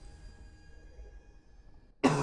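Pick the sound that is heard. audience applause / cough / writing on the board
cough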